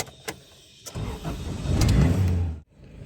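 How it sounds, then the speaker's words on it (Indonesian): A car engine cranks with a short starter whir, catches and revs up, then settles toward a low idle, close by and alone, during a check for signs of an unhealthy car engine. "Oke, yang kedua teman-teman nyalakan mesin."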